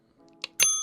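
A bell ring sound effect, like a bicycle bell: a short ding and then a louder, bright ring that lingers to the end, alone with no talk.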